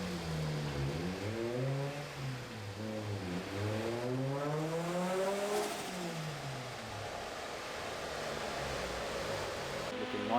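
A car with its original, worn engine mounts pulls away and shifts gears, the engine rising and falling in pitch across several revving surges, steady and fairly loud, heard from inside without talk.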